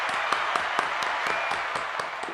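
A canned round of applause played during a magic live stream, a fairly loud steady clatter of many hands with regular sharper claps standing out, continuing evenly throughout.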